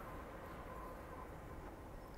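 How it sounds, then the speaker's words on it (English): BNSF intermodal stacker freight train passing Richmond Amtrak Station in California: a quiet, steady rumbling roar of rolling rail cars heard from a distance, continuous with no talk. "They got that BART train racing the BNSF train."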